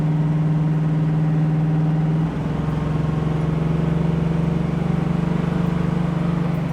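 A 1968 Pontiac Firebird cruising at about 60 mph, its engine a steady droning hum under continuous road and wind noise, with a slight shift in tone partway through.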